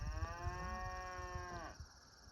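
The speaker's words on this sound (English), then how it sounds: "I don't know if they've been mooing all afternoon." A single long cow moo, clear and fairly close, fading out after about a second and a half over a quiet outdoor background.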